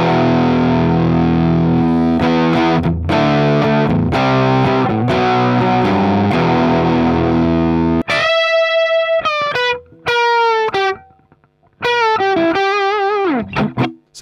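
A Marshall SV20H guitar amp with its normal channel turned up to 3 o'clock, giving a thick, crunchy overdriven electric guitar: sustained strummed chords, then brighter single-note phrases with gaps, loud and alone.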